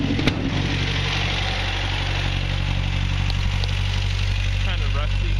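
An old, badly worn 1965 Datsun diesel with heavy blow-by idles steadily after a cold start, a constant low rumbling drone, with a voice speaking over it near the end.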